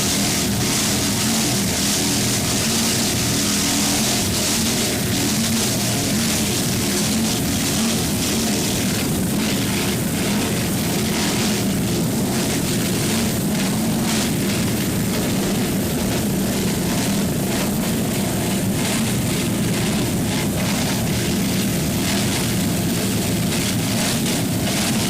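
A Supercat Light racing catamaran powerboat runs hard through rough seas, a dense, loud, continuous engine roar mixed with wind and spray noise that stays at full level throughout, with no voices.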